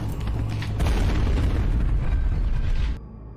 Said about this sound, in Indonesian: Namun dijawab dengan menarik pelatuk granat tangan. Sebelum meledak, Kopral Byun diberondong dengan tembakan